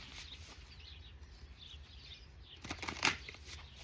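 Woodland Wardens oracle cards being handled and drawn, with a soft, quiet riffle of card shuffling and a brief louder snap of a card pulled from the deck near the end.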